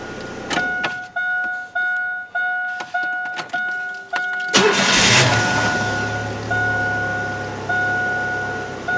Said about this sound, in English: So I've started the car.